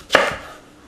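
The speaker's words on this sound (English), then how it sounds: "cut it straight down, chop it up, and just like this." A knife chops through an onion in one single sharp close stroke against a board, followed by a brief fading rustle, with no talking.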